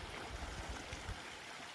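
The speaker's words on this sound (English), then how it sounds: "Got the sound of the water going" A stream flowing beside a snowy winter hammock campsite, a soft, even rushing of water with a low gurgling undertone, steady and fairly distant, with no one speaking.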